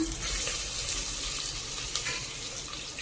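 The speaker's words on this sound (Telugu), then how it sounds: "బాగా అవి వేగుతున్నాయి ఆనియన్స్." Onions fry in a pan for a curry, giving a steady close sizzle with light stirring scrapes and no talk.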